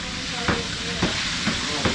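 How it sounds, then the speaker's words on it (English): Steady dense sizzle of food frying in hot oil, with a few soft clicks or knocks at regular intervals over the crackle. "We're just frying it right there in that hot oil."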